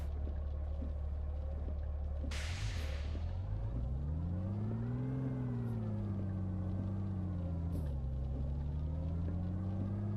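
Car engine in the rally driving game Richard Burns Rally, a steady loud rumbling drone that rises and falls in pitch as it revs up and slows down, with a brief burst of broadband noise early on.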